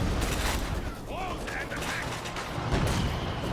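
Company of Heroes 2 battle with dense, continuous gunfire and rumbling combat noise, tank fighting included, under a speaking voice.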